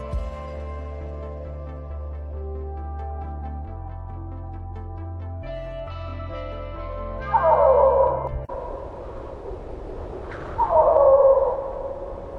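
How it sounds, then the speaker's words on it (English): Snow leopards crying out during winter mating season in Mongolia's Altai mountains, two loud drawn-out wailing howls rising over a steady tonal music bed. "piercing howls shatter the silence."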